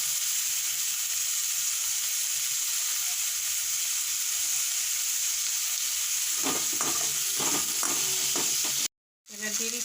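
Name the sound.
chopped tomatoes frying with ginger and Kashmiri chili paste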